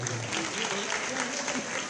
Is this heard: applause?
yes